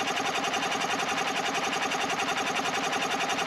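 A 2001 EZGO TXT gas golf cart engine, sluggish, popping and running hot, idles with a loud, continuous, even mechanical drone close by, with no pauses or voices.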